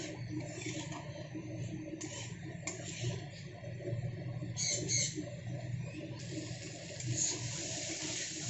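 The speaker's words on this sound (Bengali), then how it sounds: "এবারে দিয়ে দেবো জল দিয়ে এটাকে ঢাকা দিয়ে দেবো" Water is poured into a cooking pan of spiced elephant foot yam and prawn ghonto, a close, continuous splashing stream that shifts in tone as it fills.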